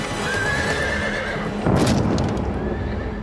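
A horse at a joust whinnies loudly and close by, with hooves and a burst of clattering noise in the middle, over a steady outdoor background.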